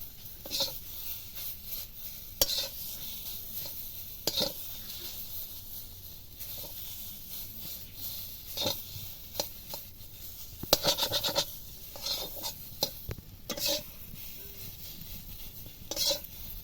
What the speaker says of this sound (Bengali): এটা একদম শুকনো শুকনো করে ভাজা ভাজা করে নেব